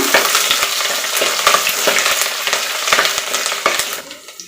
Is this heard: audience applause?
no